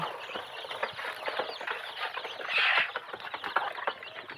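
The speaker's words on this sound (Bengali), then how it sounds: "ওখানে আছে বড় মুরগিগুলা মোরগ এবং মুরগি ওখানে খাচ্ছে" Hens and roosters clucking while feeding, a dense, steady chatter of many birds close by, with brief louder calls standing out and no talk.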